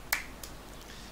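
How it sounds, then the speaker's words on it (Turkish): A single punch lands in the survival game DayZ as one short, sharp hit, followed by a fainter tick a moment later over a quiet background. "Yumruk attığında yumruk sesi çıkıyor artık Daisy'de."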